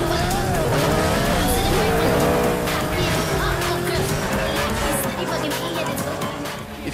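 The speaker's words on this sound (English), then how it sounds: "each of the different cars sounding completely different based on their motors" Racing car engines roar in Need for Speed: Nitro, several motors whining and rising in pitch with tire squeals and skids, loud and continuous, with a voice faintly underneath.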